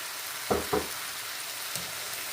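Chili powder fries in a pan for Sri Lankan seeni sambal as it is stirred, two quick scraping strokes over a faint, low background sizzle, with no voices.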